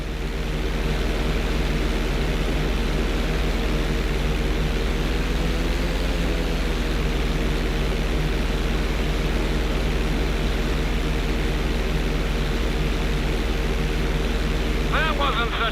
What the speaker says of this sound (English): Roll the plane right side up.